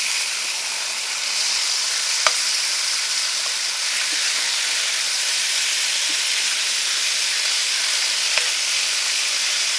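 Cajun chicken pieces frying in a pan give a steady, loud broadband sizzle with no talking, broken by a couple of brief sharp pops or clicks.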